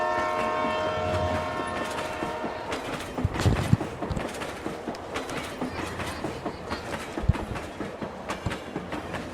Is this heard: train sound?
yes